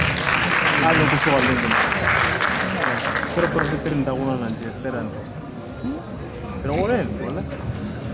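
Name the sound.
audience applause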